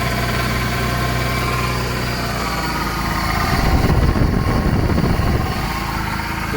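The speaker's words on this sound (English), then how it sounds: "The power steering pump is really noisy," A loud, steady mechanical whine and hum from a running BMW E36 M3 engine with a noisy power steering pump, with a harsher rumble swelling midway through.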